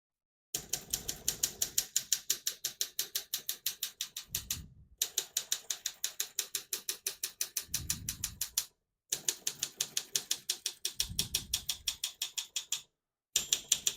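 Steady, fast keystrokes on a 1953 Olympia SM3 portable typewriter clack in long runs, each broken by a short pause and a carriage return, close and crisp.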